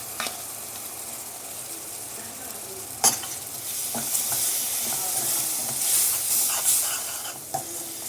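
Amaranth leaves with curd fry in oil with a continuous soft sizzle, broken by occasional sharp clicks of stirring.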